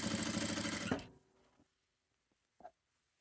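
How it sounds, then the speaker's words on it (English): An industrial sewing machine runs a straight stitch across a fabric headband, a fast loud mechanical whir for about a second that stops abruptly, followed by a couple of soft clicks. "I'm showing you, though, on my industrial machine, I'm using a straight stitch all the way across."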